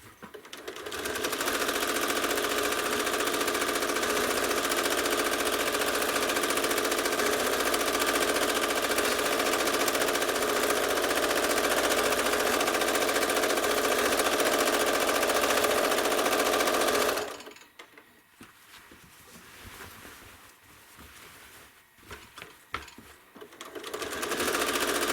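A home sewing machine running steadily while machine quilting a Tuscan Vintage quilt, a loud, even, rapid mechanical hum for about seventeen seconds, then stopping into quieter handling of the fabric.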